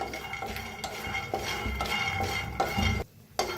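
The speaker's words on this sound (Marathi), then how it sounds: "तर कढाई ठेवलेली आहे, शेंगदाणा चांगलं भाजून घेऊया" Peanuts dry-roasting in a kadhai, stirred with a metal spatula: steady close scraping and rattling of nuts against the pan, with brief scrapes and clinks and a short pause near the end.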